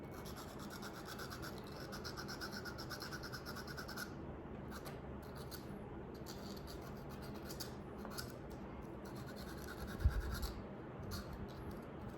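Rolled sandpaper rubbing grime out of a guitar output jack, a steady close scratchy rasp with brief pauses and one small knock, no voices.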